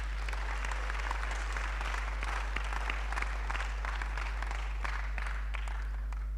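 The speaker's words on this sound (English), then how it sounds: "Clap for yourselves." Sustained applause from a seminar audience, many hands clapping steadily throughout at moderate volume over a constant low hum.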